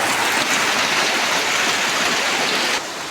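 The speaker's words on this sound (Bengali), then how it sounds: "দেখুন বন্ধুরা কি বৃষ্টিটায় হওয়া হচ্ছে দেখুন" Downpour of heavy rain, a thick, loud, even roar of falling water that drops off slightly just before the end, with no voices.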